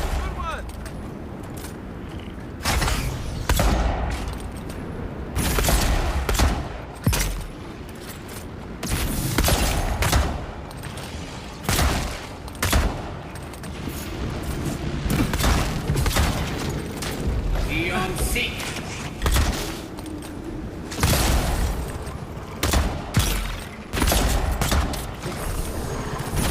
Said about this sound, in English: Can't miss your shots with the magic missile.